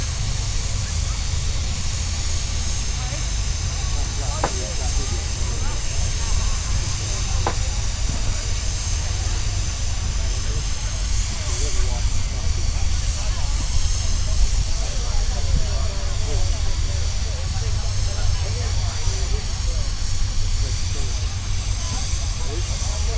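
A steamroller's steam engine hisses continuously in the arena at the Broyle country show, a loud, even wash of steam with faint voices in the background.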